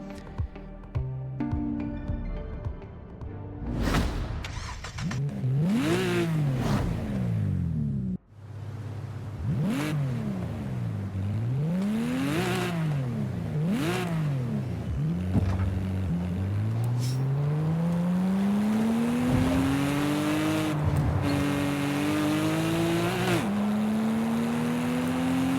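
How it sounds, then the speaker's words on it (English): A 1996 Subaru SVX flat-six engine revs and shifts on the road, climbing through gears with repeated rising pulls and brief dips, then settling into a steady, loud drone. "let's fire up that flat-six engine and hear what the SVX sounds like on the road"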